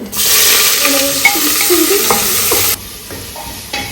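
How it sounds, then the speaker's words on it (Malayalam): Chopped onion is sautéed in hot oil with spices, giving a loud, close sizzle under scraping stirring strokes that cuts off abruptly near the end, with no voices. "ഉള്ളി നന്നായിട്ടൊന്ന് വഴറ്റിട്ട്"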